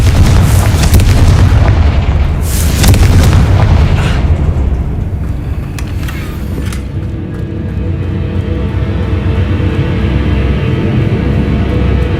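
A Confringo spell explosion in the video game Hogwarts Legacy booms loud and deep at the start, then rumbles and crackles away into a long, slowly fading roar.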